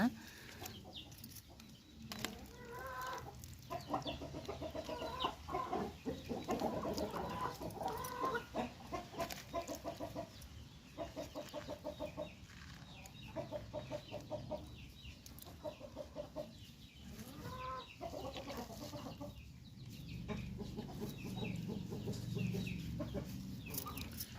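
Backyard chickens cluck and murmur near a home garden, soft repeated clucks scattered through a quiet outdoor scene with faint rustling and occasional distant sounds.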